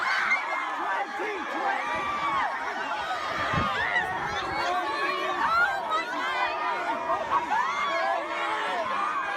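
A crowd of students at a national school walkout cheers and shouts excitedly as Bernie Sanders walks through, dense overlapping chatter and whoops close around with no single voice standing out.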